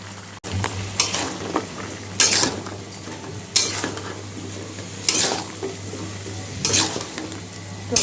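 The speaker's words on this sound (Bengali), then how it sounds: "এখন ডাঁটা, ছোটো আলু আর কুমড়টা দিয়ে দিলাম।" Drumsticks, baby potatoes and pumpkin frying with spices in a pan, a low steady sizzle punctuated by regular clanking scrapes of a spatula against the metal.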